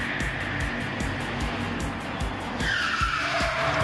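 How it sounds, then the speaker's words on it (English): Two cars, a police car and a gangster car, skid through a rehearsed chase inside a warehouse, tires screeching in repeated bursts over a roaring engine rush that swells toward the end. "we're going to film a car chase with 2 cars, cop car, bad guy, gangster car"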